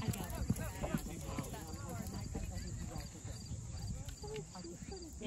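Horse hooves clip-clop in an uneven rhythm close by at an outdoor fun day event, with quiet voices speaking over the steps and faint outdoor ambience.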